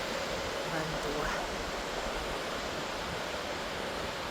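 Atlantic Ocean waves surge along the rocky Irish coast of the Wild Atlantic Way, a steady, close broadband roar of surf with no pause, joined briefly by a faint voice.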